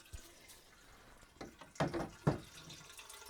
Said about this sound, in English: I'll just collect wax from the Digiboil over here